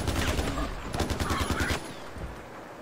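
Rapid burst of gunfire from a weapon in Far Cry 4 aimed at a wild boar, sharp repeated shots in a fast volley that stops abruptly, then a quieter game ambience.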